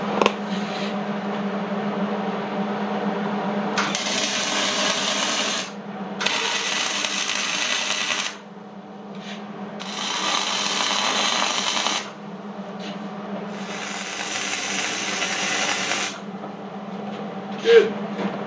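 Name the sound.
tack welding reinforcement on a 3 point hitch receiver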